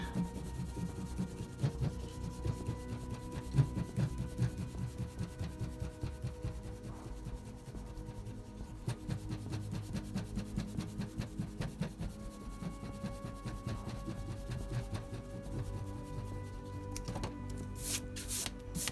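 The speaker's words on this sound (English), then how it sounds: "the sweet ASMR sounds of a big eraser on cardstock" Close, soft rhythmic rubbing of a large eraser on stiff card, steady back-and-forth strokes with a faint hum underneath and brief brushing at the end.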